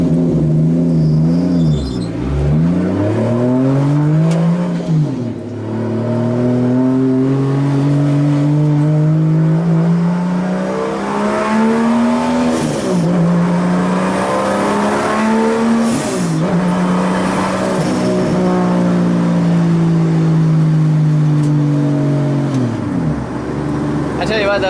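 A loud turbocharged 2JZ engine in a 240SX drift car revs hard and repeatedly, pitch climbing and dropping in long sweeps, with a turbo whine over the roar.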